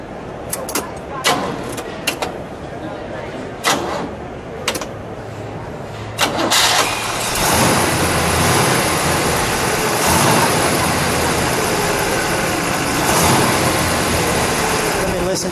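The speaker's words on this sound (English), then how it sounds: "let's listen to it fire up. We'll step on the brakes for a moment, then we'll let it idle" A 1966 Oldsmobile 442 W-30 V8 engine is cranked with several short bursts, then catches and settles into a steady, loud rumbling idle.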